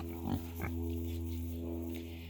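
Pigs rooting in the dirt of a newly opened field, with the garden just free of snow, give two short, close grunts over a constant low hum.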